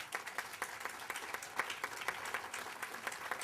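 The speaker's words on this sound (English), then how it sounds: "A huge round of applause for you." Audience applause at a literacy organization's grand opening event, an even, continuous spatter of many hands clapping, fairly quiet and distant throughout.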